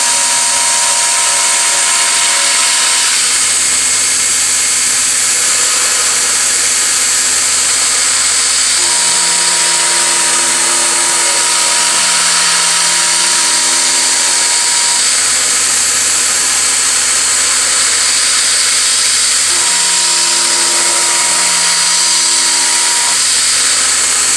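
A metal cup edge being chamfered on a machine gives a loud, continuous mechanical whine whose pitch steps up and down several times as the cut proceeds.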